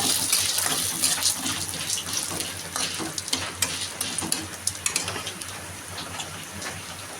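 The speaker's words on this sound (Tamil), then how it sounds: "நல்லா அடுப்பை லோ ஃப்ளேமில் வச்சு நல்லா வறுத்து எடுத்துங்க" Urad dal and pirandai roast in a pan over a low flame, giving a soft, continuous sizzle with irregular crackles and stirring scrapes, quiet and close.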